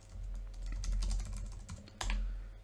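Soft keystrokes on a computer keyboard tap out a short burst over a low steady hum, faint and close, with one sharper click near the end.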